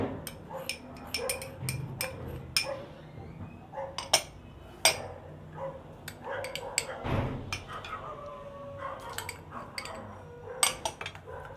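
Chicken being mixed with spices in a bowl for a zinger burger, with a steady run of clinks and scrapes of a utensil against the bowl, close and busy, while a voice speaks intermittently in the background.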